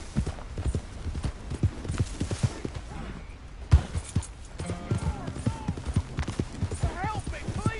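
Horse hooves gallop in a steady, rapid clip-clop in Red Dead Redemption 2, loud and close, with game voices and shouts over the rhythm.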